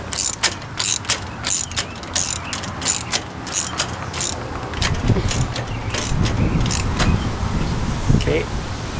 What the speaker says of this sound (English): a ratchet.